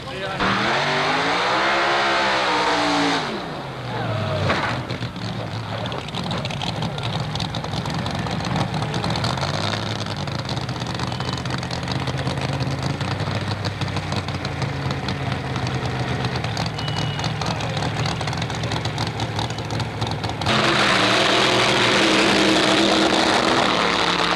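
A rough, uneven 1959 dragster engine, running on only four or five cylinders, rumbles and sputters loudly throughout at an antique drag race, with a commentator talking over it; the motor surges louder near the end.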